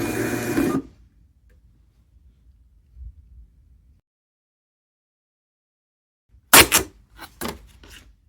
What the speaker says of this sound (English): Press and hold the feed button until the printer starts to print, then release the button.